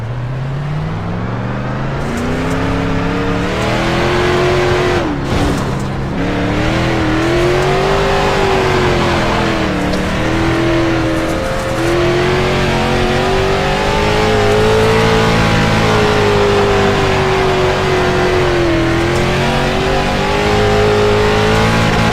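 A car engine drones steadily and loud for the whole stretch while driving, its pitch climbing and dipping as it accelerates and eases off, with no talk over it.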